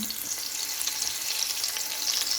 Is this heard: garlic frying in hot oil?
yes